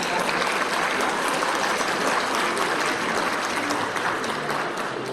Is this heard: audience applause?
yes